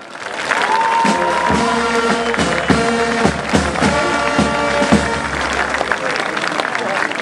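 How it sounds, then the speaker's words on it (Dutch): Audience applause at a carnival mock-court evening, a steady wash of clapping and crowd noise mixed with loud band music that holds sustained tones throughout. "Een groot applaus voor de rechtbank en ons maag."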